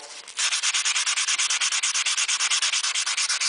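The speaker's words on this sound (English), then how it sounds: "take your 150 and just in one direction, you're just sanding out all the file marks" Stainless steel trim being hand-sanded with 150 grit paper in one direction, giving a loud, close, rhythmic rasping of quick, even back-and-forth strokes, steady throughout, with no talking.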